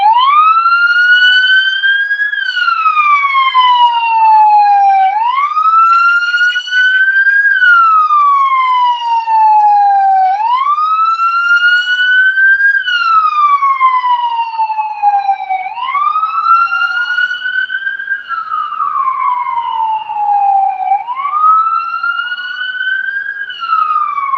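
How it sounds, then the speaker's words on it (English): An emergency vehicle siren wails on an Austin street during a protest, loud and close, rising and falling in a repeating cycle about every five seconds for the whole stretch, with no talk over it. "EMS, not an ambulance, but emergency vehicle, first responder."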